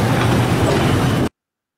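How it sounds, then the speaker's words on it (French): Freight train hauling cement clinker rumbles past with steady clickety-clack wheel noise, loud and close, then cuts off abruptly. "Voilà les trains qu'on fait circuler"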